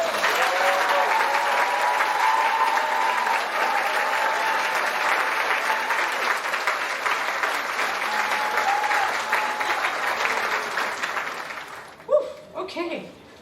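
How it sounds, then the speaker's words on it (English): Sustained audience applause for award winners and student organization officers at a university commencement ceremony, steady and full for about twelve seconds before tapering into a few scattered claps. "so we can acknowledge you with our applause"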